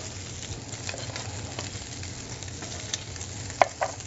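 Red onions fry in bacon fat with a steady close crackling sizzle under a low hum, broken near the end by a couple of sharp clinks as they are stirred, with no talking.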